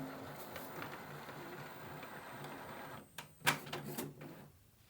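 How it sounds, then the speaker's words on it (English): An Epson ET-3950 printer feeds paper and prints a page, a faint mechanical whir that rises into a few louder clicks and clunks near the end before settling. "The printer will pull out the paper output"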